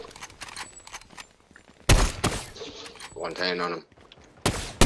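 Sharp gunshots crack in Fortnite, coming from the left, with a couple of loud close bursts and faint taps between them, while people talk throughout.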